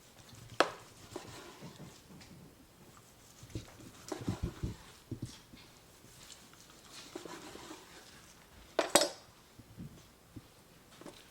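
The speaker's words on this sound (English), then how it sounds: "Cut a little bit of the burnt ends." A knife cutting through smoked brisket burnt ends on a board, a few soft irregular thuds and slicing scrapes, quiet and close, with no talk.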